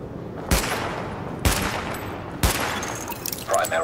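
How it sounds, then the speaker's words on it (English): Three loud, widely spaced gunshots ring out during a weapon test in Tom Clancy's The Division, each a sharp crack with a decaying tail over steady background noise, followed by faint game clatter. "Weapon test initialized. Open fire at the highlighted targets."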